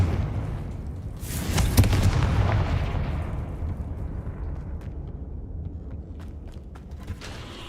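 A Confringo fire spell in Hogwarts Legacy bursts with a loud, booming blast that rolls out over about a second, then fades into a lingering rumble scattered with faint crackles and small pops.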